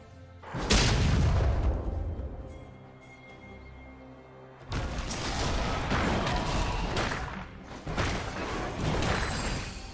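A turret in League of Legends blows up with a loud booming crash, a ringing tail following, then a second burst of impacts and clatter from the battle as a Malphite and Darius top-lane fight goes on.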